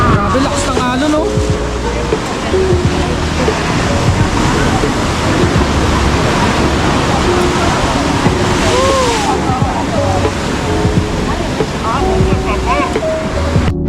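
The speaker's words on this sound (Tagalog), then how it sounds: "Grabe, lakas ng alon, no?" Strong ocean waves surge and crash continuously on the shore at Cijin Island, Taiwan, a loud steady roar with voices talking over it.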